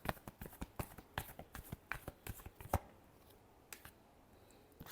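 A tarot card deck being shuffled, giving quiet, rapid riffling flutters and soft card slaps in irregular bursts that thin out toward the end.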